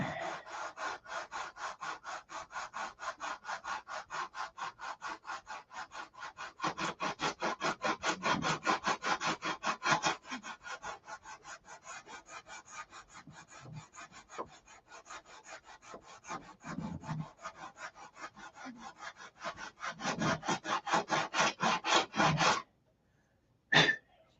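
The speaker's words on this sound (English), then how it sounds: "Now just finish sanding." Steady, rapid back-and-forth rasping of sandpaper on the wooden turtle deck of a Sig Magnum model airplane, close by and continuous for over twenty seconds before stopping, then one brief final stroke.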